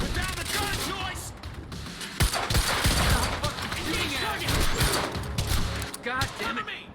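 Rapid gunfire in the Quantum Break video game, sustained bursts of shots and thuds mixed with game sounds, with people talking over the firing.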